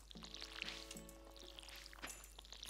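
Crops being watered with a watering can in the video game Stardew Valley, a faint trickling pour with soft splashes and a few short chime-like tones over a low steady hum.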